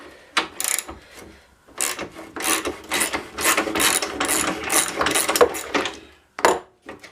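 A bolt being loosened and pulled out while restoring an old snowblower part, with bursts of ratcheting clicks and scraping metal, close and loud, broken by short pauses.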